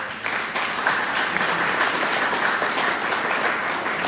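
Sustained applause from an audience at a county tourism public meeting, honoring Judge Anderson; steady, dense clapping fills the room evenly for the whole stretch without pause.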